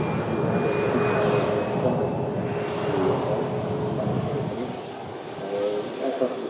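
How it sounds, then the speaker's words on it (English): A Ryanair airliner arriving from Ibiza at Manchester Airport gives a loud, steady jet roar that fades slightly toward the end, with faint high engine whine. "Ryanair arriving in from Ibiza."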